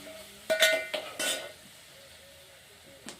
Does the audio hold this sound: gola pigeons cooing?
no